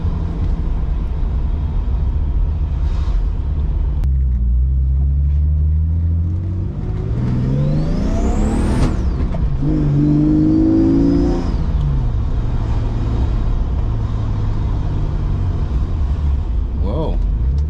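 Turbocharged BMW 733i E23 with a loud, damaged exhaust, heard from inside as the engine drones, revs hard with a rising turbo whine, drops away and pulls again, with occasional speech.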